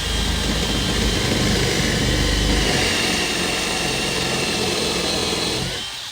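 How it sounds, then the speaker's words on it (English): A drill fitted with a Forstner bit bores into wood at high speed with a loud, continuous whine and grind. The sound winds down near the end. "if you get it going like on 2 on your drill, the higher speed, and turn it at an angle a little bit"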